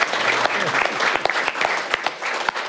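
Audience clapping at a talk about working in a recording studio, close and fairly loud, with distinct individual claps standing out over a continuous ripple of applause.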